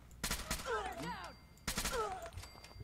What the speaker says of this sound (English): So the burst fire is working pretty well now.